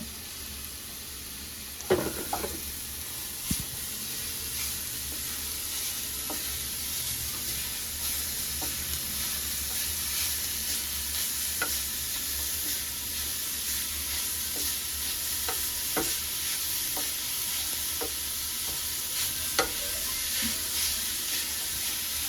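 Grated beetroot sizzles steadily in a pan over a low gas flame, with scattered light scrapes and taps as it is stirred throughout.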